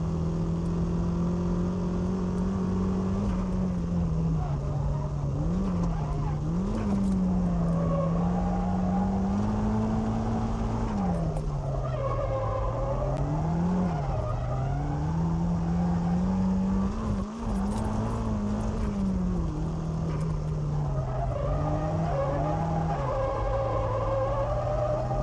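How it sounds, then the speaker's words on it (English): Car drifting around a hairpin curve on the Maze circuit, with an engine revving up and down steadily and loudly through the whole stretch and brief tire squeal and skids mixed in. "I'd like to demonstrate the different drifting procedures with different cars."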